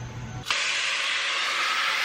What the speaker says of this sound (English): the hose literally just sprayed into my face